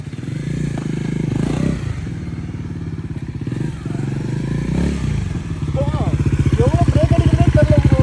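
A stunt motorcycle revs hard through a freestyle wheelie, its engine drone loud and near with a rapid, steady chug that rises and falls, while voices shout over it.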